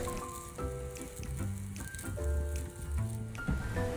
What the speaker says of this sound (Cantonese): 而家就放米粉落去炒佢